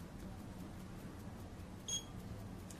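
A Geiger counter held near a radium-226 radiation source gives a single short, faint electronic beep partway through, over a steady low background hiss.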